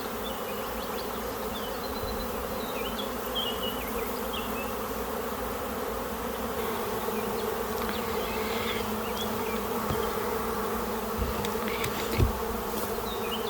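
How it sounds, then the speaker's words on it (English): A large honeybee swarm hums steadily as it marches into a hive, a dense continuous buzz close by, with individual bees zipping past now and then. "Yeah, they're marching right in pretty nicely. I probably have a little over half the bees down there"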